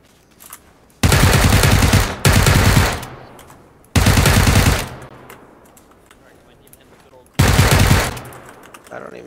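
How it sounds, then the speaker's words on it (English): Bursts of automatic gunfire from a squad-based shooter video game, several loud sustained volleys separated by short pauses, with players' voices barely present. "I don't even see what you're shooting at."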